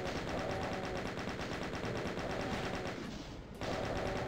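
Rapid continuous gunfire from the Doom video game blasts against barons, a dense loud rattling stream of shots that briefly thins near the end before resuming.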